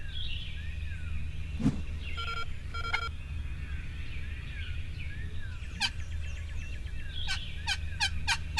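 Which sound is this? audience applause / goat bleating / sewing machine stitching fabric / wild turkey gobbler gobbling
wild turkey gobbler gobbling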